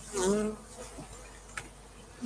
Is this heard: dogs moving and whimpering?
no